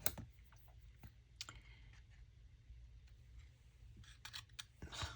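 Scissors cutting through folded two-sided paper for a junk journal notebook, giving faint, close snips and crisp clicks, sparse at first and then a quick cluster near the end.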